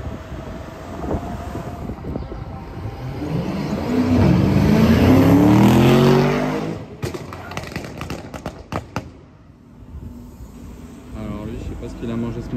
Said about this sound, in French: Vous entendez les retours d'échappement?